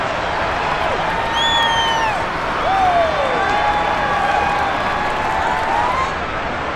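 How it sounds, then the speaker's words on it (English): Stadium crowd noise from a Madden NFL 23 game, a broad steady roar of cheering and applause that holds for the whole stretch, with whistle-like tonal swoops and an announcer-style voice layered over the top. "How about some applause for the defense there?"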